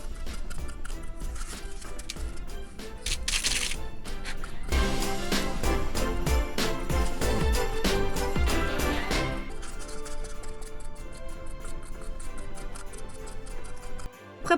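Quick, light tapping on a candle surface during a recycled-materials craft, a dense run of small clicking taps over background music, growing busier in the middle before thinning out.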